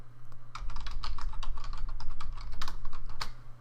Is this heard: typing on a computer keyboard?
yes